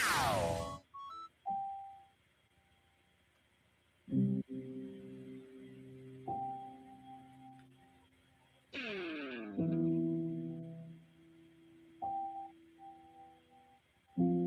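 Electronic bell and chime tones ring out in a sequence of separate bursts, some bright and ringing, some distorted and buzzy, with sustained tones fading between hits and no voices.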